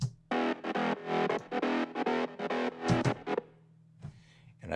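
Buzzy, distorted synth grit bass notes in short repeated bursts for an uplifting trance track, gritty and harmonically rich with a little reverb, ending in a quieter tail.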